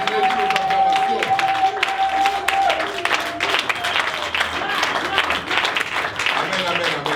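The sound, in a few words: congregation applauding and cheering in church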